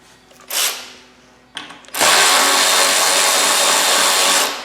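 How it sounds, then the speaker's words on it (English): A cordless ratchet works on the skid plate of a 2022 Kawasaki KLR 650, a couple of short whirring bursts followed by a loud, sustained buzzing run close by. "Cordless ratchet."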